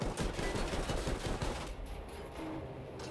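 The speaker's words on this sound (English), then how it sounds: "tank, anti-aircraft tank, shooting at me" An anti-aircraft tank in the video game Battlefield V fires rapid, loud, automatic cannon bursts for about a second and a half, then the shots thin out into a rumbling battlefield din.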